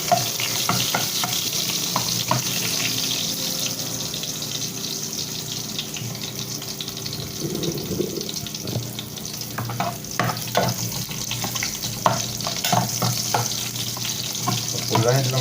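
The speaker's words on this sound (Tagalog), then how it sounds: "Sarada natin ang bawang guys, bawang. Sa kumukulong mantika." Chopped garlic frying in boiling-hot oil for a beef and bottle gourd sauté, giving a dense continuous sizzle with spatula stirs and scrapes against the pan, close up, while running water sounds faintly in the background.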